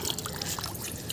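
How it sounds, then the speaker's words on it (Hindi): Water poured from a vessel onto potted fenugreek and coriander plants, a brief, soft splashing trickle heard close by without speech. "मैंने पानी डाल दिया मेथी और धनिया में।"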